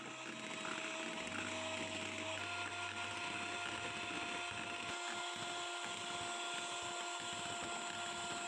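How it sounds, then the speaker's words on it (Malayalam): Electric beater whipping cream for jackfruit ice cream, a steady motor whine running the whole time with a low hum that shifts partway through, close and alone with no talk. "ഇനി നമുക്ക് വിപ്പിംഗ് ക്രീം ഒന്ന് ബീറ്റ് ചെയ്തെടുക്കണം."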